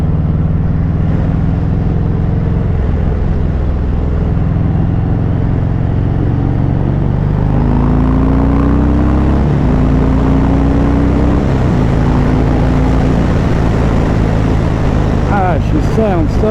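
Harley-Davidson Sport Glide motorcycle with Longhorn pipes idling then revving, a steady loud low engine rumble throughout with rising pitch sweeps near the middle, and talk mixed in.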